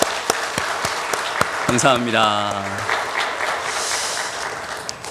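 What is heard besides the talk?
congregation applause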